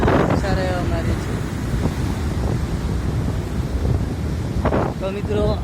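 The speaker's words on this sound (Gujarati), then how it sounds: "ખૂબ જ સારા એવા મોજા મારી રહ્યો છે દરિયો" Sea waves surge and wash onto the shore at Porbandar, a steady broadband roar heavy with wind buffeting the microphone, while faint voices come and go underneath.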